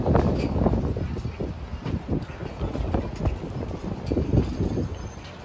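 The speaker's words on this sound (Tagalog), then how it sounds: "Lakas ng hangin pa rin." Strong wind buffets the microphone in gusty, rumbling bursts throughout, loud and close, in the Dotonbori district of Osaka.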